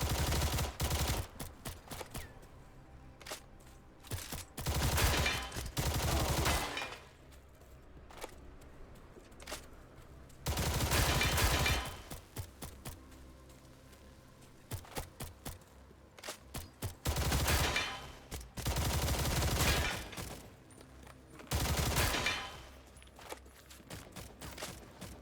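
Automatic gunfire in the shooter game Stalcraft, repeated loud bursts of rapid shots lasting one to two seconds each, separated by quieter gaps, no speech.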